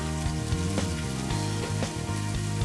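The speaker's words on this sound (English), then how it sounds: "I'm going to add a generous cup of diced onions" Diced onions hitting a hot pan and sizzling steadily, a close crackling fry with scattered pops and soft stirring clatter, no talking.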